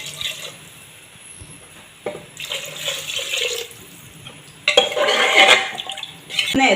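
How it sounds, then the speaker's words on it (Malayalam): Water is poured into a cooking pot for majboos rice in a home kitchen, a steady splashing stream that rises and falls in bursts, close and fairly loud, with pot clatter and no talking. "വെള്ളം ഒഴിച്ചു കൊടുക്കട്ടെ"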